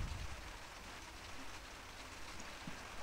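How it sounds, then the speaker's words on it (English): Rain is starting to fall outdoors, a steady soft patter of drops hitting surfaces, faint and even throughout with no voices. "It's starting to rain."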